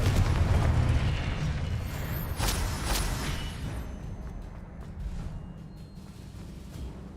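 A Confringo blasting spell in the Hogwarts Legacy video game goes off as a loud, rumbling explosion with a boom and crackling debris that slowly fades over several seconds.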